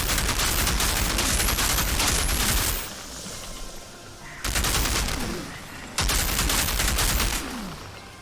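Rapid gunfire in the video game Outriders, loud continuous bursts of shots with brief pauses between volleys, up close and without talk.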